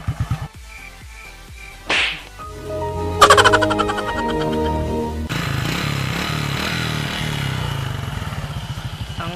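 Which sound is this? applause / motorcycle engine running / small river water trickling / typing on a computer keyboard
motorcycle engine running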